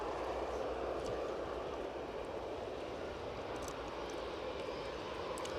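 An EasyJet airliner departing a windy Edinburgh Airport for Copenhagen makes a soft, continuous jet roar in the distance, a steady rushing drone with faint wind noise.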